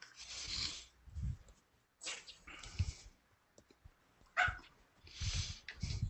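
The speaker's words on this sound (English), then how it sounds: "The dog says woof." A dog in a tabletop role-playing session barks in several short, loud bursts with gaps of quiet between them, and there are clicking sounds along with them.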